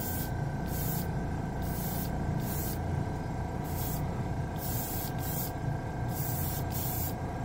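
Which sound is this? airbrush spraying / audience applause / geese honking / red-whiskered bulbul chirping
airbrush spraying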